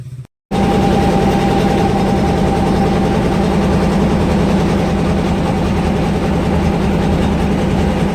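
A river ferry boat's engine starts after a brief gap, then drones loud, close and steady for the rest of the stretch, a heavy continuous rumble with no voices.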